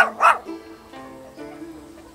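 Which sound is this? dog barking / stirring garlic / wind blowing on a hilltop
dog barking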